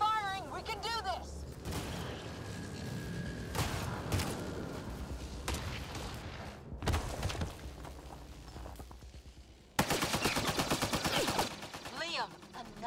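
Video game gunfire in Mass Effect: Andromeda, bursts of rapid shots at close range with a loud sustained automatic stretch near the end, under and between short voices.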